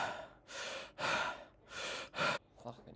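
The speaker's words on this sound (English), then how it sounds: "Male breathing sound effect." Heavy male breathing, a series of four loud drawn-out breaths and sighs with short pauses between, ending in a fainter gasping breath, close up with no talking.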